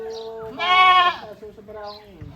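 A purebred Anglo Nubian goat lets out a single loud, drawn-out nasal bleat close by, with quieter voices talking softly before and after it.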